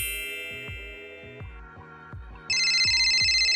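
A telephone rings for an incoming call, a repeating electronic ringtone with rhythmic pulses that switches to a brighter, louder ring partway through, with no talking.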